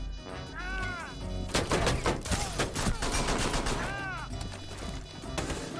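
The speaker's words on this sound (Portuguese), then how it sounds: "Tira com a metralhadora." Rapid machine gun bursts in the tactical shooter Rainbow Six Siege, dense repeated firing with impacts and clatter across the whole stretch, loud and busy over a game soundscape.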